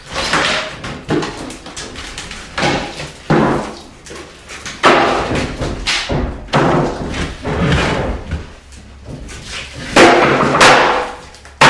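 Sledgehammer tearing out old cabinets during a home renovation: a series of loud heavy thuds, bangs and splintering crashes at irregular intervals, close by, with brief gaps between blows.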